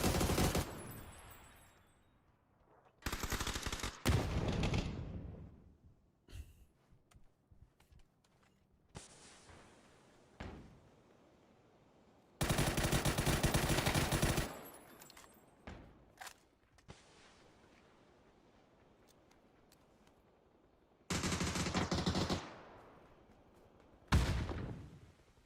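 Bursts of M249 light machine gun fire in a PUBG esports match, several loud sustained volleys of rapid shots separated by quieter gaps with scattered single shots and thuds.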